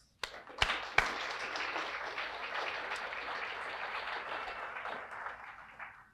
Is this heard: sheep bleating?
no